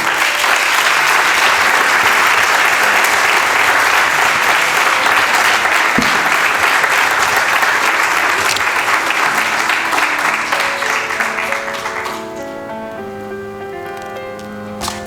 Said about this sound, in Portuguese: Mais uma salva de palmas para a Maria Elizabeth Pinho.